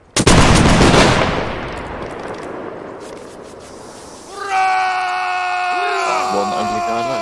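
A regiment fires a musket volley in a Napoleonic Wars video game: a loud, crackling burst of near-simultaneous shots that decays over a few seconds, then shouting voices and a sustained tonal horn or drum-like game sound rise.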